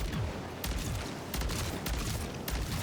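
BP50 assault rifle fire in MW3 Zombies, with several loud, sharp shots in quick bursts against a dense background of game noise and no talk.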